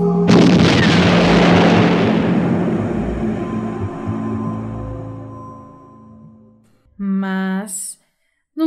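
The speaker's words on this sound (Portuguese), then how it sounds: "Explodiu." A loud explosion bursts out in a dramatized story, with a booming blast that rolls into a long, slowly fading rumble, then cuts to a short tonal sound effect before silence.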